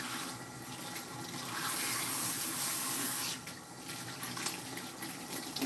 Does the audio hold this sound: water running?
yes